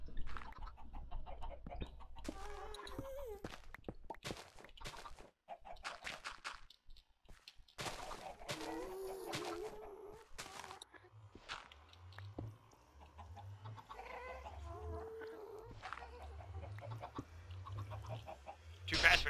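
Chickens cluck in a farming video game, several short clucks scattered over rhythmic low game music and thumps, with someone talking intermittently throughout.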